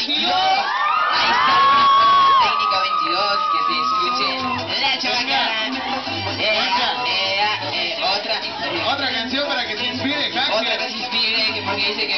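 A large crowd at a school event shouts, whoops and cheers loudly and continuously, children's voices prominent, with a soft beat of music faintly underneath.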